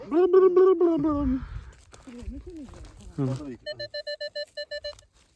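A small metal bell, an excavated Scythian artifact, rings in a quick series of bright, evenly spaced strikes, coming right after people talking nearby.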